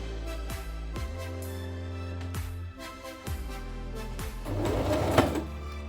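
A sewing machine runs in short stitching bursts, pausing between passes as it back-stitches on a zipper pouch, with a steady mechanical whir and clicks, no voices.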